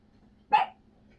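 A single short, sharp dog bark at a campsite, fairly distant and standing alone against quiet background.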